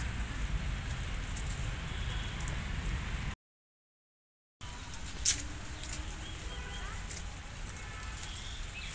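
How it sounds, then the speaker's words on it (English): Soft, steady hiss of light drizzle falling outdoors in Lalbagh Botanical Garden, Bangalore, broken by a short gap of silence, with a faint chirp heard once after. "And it is drizzling also"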